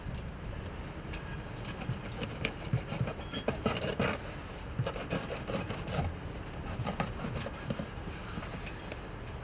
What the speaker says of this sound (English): Nice sharp knife. We're going to take fillet off.